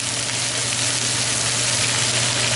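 Red cabbage fries in bacon fat, a dense, loud and even sizzle that carries steadily throughout, with stirring blended into the hiss and no one speaking.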